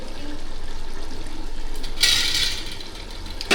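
Water pours into a pot of Hyderabad-style mushroom dum biryani, a sudden close gush that lasts about half a second before the kitchen quiets to a low background hum.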